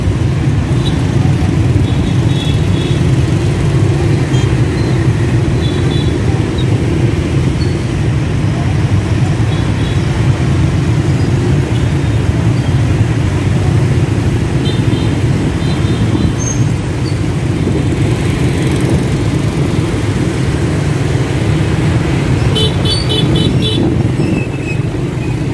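Rush-hour traffic jam on a Vietnamese road during the morning commute to work, a dense steady roar of motorbike and vehicle engines with horns and a voice talking over it throughout.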